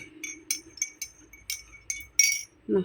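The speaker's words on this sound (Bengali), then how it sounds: "এই যে জল গুলিয়ে দিলাম" A spoon stirring salt and sugar into water in a glass, clinking rhythmically against the sides about eight times in under three seconds, close and bright, ending with a short low thump.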